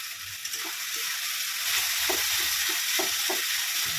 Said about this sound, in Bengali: একটা বড় টমেটো কেটে রেখেছিলাম, এটা দিয়ে দিলাম।